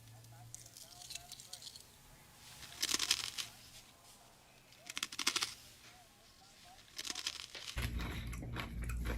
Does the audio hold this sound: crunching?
yes